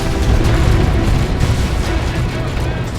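Lascannon fire from a Space Marine versus Imperial Guard battle in Dawn of War 2, heard as loud, continuous booming blasts and rumbling explosions that fill the short stretch without a break.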